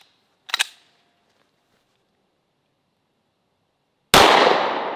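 A single .45 ACP shot from a Smith & Wesson M&P 45 firing 230 grain Underwood jacketed hollow points: a loud, sharp blast with a decaying tail near the end, after a brief click near the start and otherwise silence.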